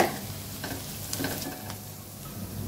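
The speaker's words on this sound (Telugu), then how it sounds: "కాస్త వేగనివ్వాలి పోపు." Curry leaves, freshly pounded ginger-garlic and turmeric sizzle in a pan for a tempering, a close, steady hiss with faint stirring scrapes and no voices.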